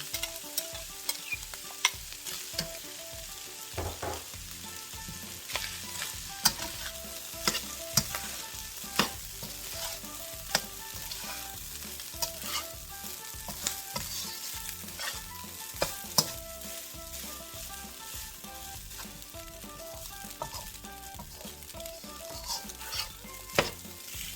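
Two-day-old rice frying in a pan for shrimp fried rice, with onions already cooked in. A soft continuous sizzle runs under repeated scraping and stirring strokes of a utensil against the pan.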